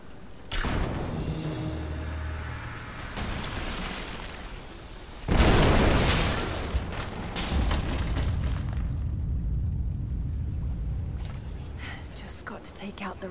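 A loud burst of Greek fire explodes in the Tomb Raider game, a sudden broadband blast that rumbles on for a couple of seconds amid ongoing game ambience, with a voice speaking earlier and around the blast.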